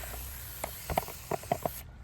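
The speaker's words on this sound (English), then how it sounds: "I'm also gonna come and pre-spray." Rinseless pre-spray misted onto a dirty car from a trigger bottle, several short sharp spritzes in an uneven run over a faint background hiss, close and fairly quiet.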